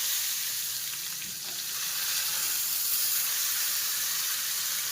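Steady, loud sizzling of peanuts frying in a pan fills the whole stretch with a bright crackling hiss, no voices present.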